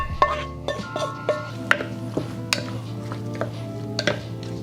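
Beef stew ingredients stirred in a pot, a spoon clinking and knocking against the pot in a steady series of sharp taps over a low background hum.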